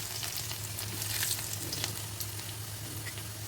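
Garlic frying in hot oil for puliyodarai tamarind rice, a steady close sizzle with small crackling pops and a low constant hum beneath, no voices.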